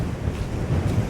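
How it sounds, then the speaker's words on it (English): Strong wind gusting at a stormy coast with the tide well in, a steady roaring buffet over the microphone blended with crashing surf, loud and continuous with no talk. "Oh, that's really windy."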